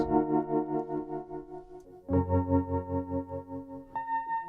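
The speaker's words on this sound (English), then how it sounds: "and I put some tremolo on it. It sounds like this," Sustained Sequential Prophet-10 synthesizer chords pulse with a steady, even tremolo wobble from an outboard effects processor, shifting to new chords about halfway through and again near the end.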